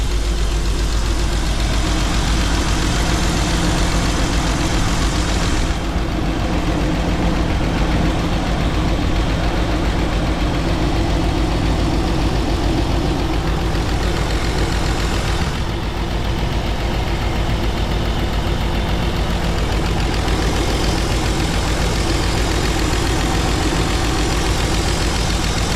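A BMW E36 engine runs at a steady idle after a differential install, loud and continuous throughout with an even mechanical rumble and no talk.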